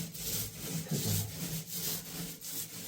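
Paint or filler is rubbed and spread across a wall surface, giving close, rhythmic scraping strokes that repeat steadily at a moderate level with no talking.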